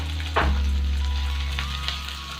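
Yellow and green capsicum frying in a pan for a restaurant-style chilli fish, a steady close sizzle with a brief stir clatter near the start, no voices.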